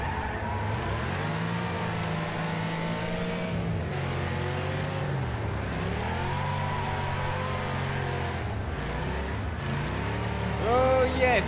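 Rally car engine in the racing game Wreckfest, revving and shifting steadily through gears over a continuous loud drone, with a brief tire squeal near the end.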